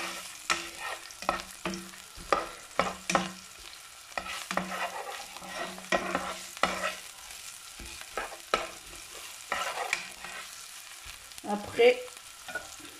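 Spiced vermicelli is stirred as it fries in olive oil in a pan, with a steady sizzle broken by repeated scraping strokes of the spoon. A brief word is spoken near the end.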